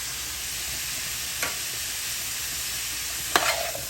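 Sautéed chayote sizzles in a frying pan under a steady hiss while a utensil stirs it, giving two brief scraping clatters, close and with no voices.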